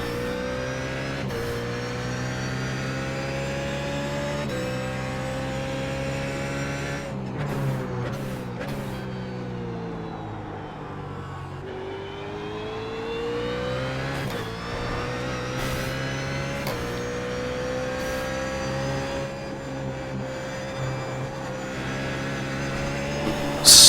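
BMW Z4 GT3 race car lapping the Nurburgring in iRacing: a loud, sustained engine drone with rising and falling revs, a few sharp gear-change cuts and a brief dip in pitch mid-way, heard alone throughout.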